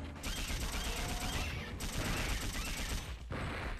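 Rapid submachine gun fire from the video game Dino Crisis 2, a dense, loud, continuous stream of shots with two brief gaps, close and steady for the whole stretch.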